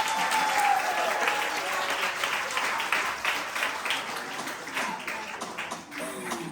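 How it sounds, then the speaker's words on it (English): Sustained audience applause at a school graduation ceremony, a dense, steady crowd clapping that holds for several seconds with a voice occasionally heard over it. "Clap, Ms. Bonner, people."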